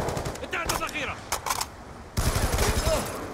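Automatic gunfire in the video game Black Ops 2: rapid bursts of shots in quick succession, then a louder sustained volley, with voices talking over the action.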